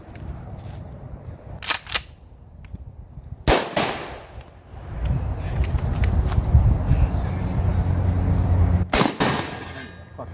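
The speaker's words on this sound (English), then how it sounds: "Shoot the buck shot." A shotgun fires buckshot at the Cendet Gun Range in Umatilla. Three sharp, loud blasts stand out against rumbling background noise, with people talking between shots.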